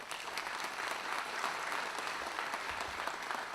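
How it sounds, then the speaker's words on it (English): A crowd at an East Kentucky regional commercial air service launch ceremony applauds Chamber of Commerce board members with a sustained, full round of clapping that stays level throughout. "A round of applause, please."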